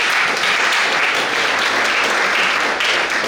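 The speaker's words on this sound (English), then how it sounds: "Please give them a round of applause." Loud, dense applause from the audience at a junior science and maths school quiz, given for a team after the third round. The clapping is steady and unbroken throughout.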